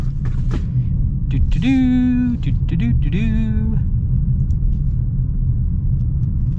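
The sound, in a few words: 2022 Jeep Compass Trailhawk driving around a roundabout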